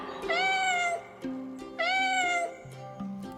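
Two drawn-out cat meows, close and clear, over a soft plucked melody in the background.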